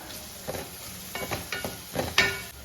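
Sliced onions fry in a pan for a Kerala-style chickpea curry. A soft, low sizzle continues throughout, broken by several scraping stirs of a spoon.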